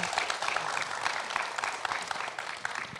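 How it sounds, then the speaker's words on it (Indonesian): Studio audience at an Indonesian family-themed TV show claps steadily, a dense, continuous applause that stays fairly even throughout, with no clear voices standing out. "Kasih tepuk tangan dong, Ibu Bapak sekalian."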